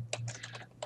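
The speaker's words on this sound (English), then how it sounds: "let's keep typing" A short burst of a few quick computer keyboard keystrokes, close and crisp, with no talking.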